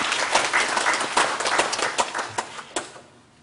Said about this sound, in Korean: 우리 주님께 우리 감사와 영광의 박수를 올려드리도록